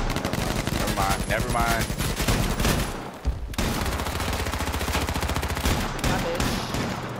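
Sustained automatic gunfire in the battle royale game H1Z1 rattles loudly and close in rapid, evenly spaced shots, breaks off briefly midway, then resumes, with someone speaking over it.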